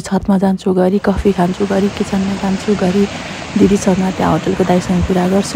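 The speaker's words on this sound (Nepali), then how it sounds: "चराहरूको आवाज आइरहेको छ खोलामा पानी बगेको आवाज" A hillside river flows with a constant soft rush beneath someone speaking close to the listener, with the water audible mainly in the pauses between his words.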